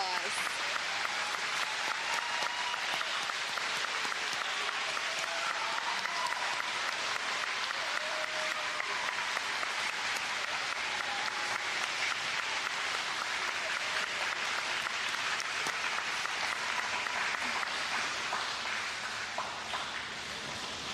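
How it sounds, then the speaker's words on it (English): Audience applause for fifth grade graduates at a school step-up ceremony, a steady dense clapping from a large crowd that holds for about twenty seconds with no voices over it. "Let's all give them a round of applause."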